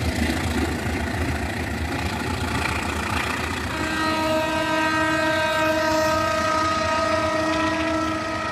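A train rolls past near a PPKA post at Kramasan, its loud rumble continuous, and from midway a long sustained horn blast sounds over the passing cars.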